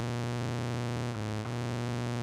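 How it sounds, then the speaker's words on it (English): Steady hissing white noise from the noise generator of a Behringer 2600 synthesizer plays continuously at a constant level, with a low droning hum underneath and no other sounds. "white noise."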